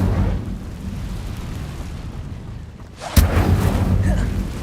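An Incendio fire spell cast in the Hogwarts Legacy video game bursts with a sudden loud whooshing blast, then a roaring fiery rush that stays strong over steady game ambience.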